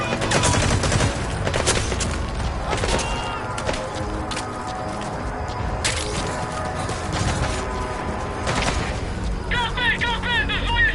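Unsuppressed gunfire in Metal Gear Solid V: The Phantom Pain rattles in loud, dense bursts throughout, with booming impacts and clanking mechanisms, while game voices call out beneath the shooting.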